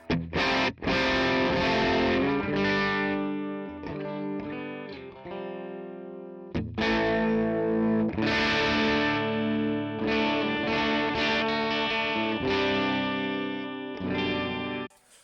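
An electric guitar plays loud, driven chords and notes through an AC30-style amp model on an HX Stomp, a chiming, slightly crunchy tone with a brief pause midway.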